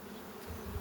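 Honey bees buzzing at a hive, a steady, dense, close hum that runs through a very short moment.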